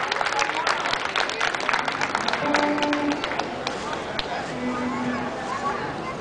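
Audience applauding a local band at a civic event in Wilkes-Barre, a broad clapping wash mixed with a speaking voice over the crowd.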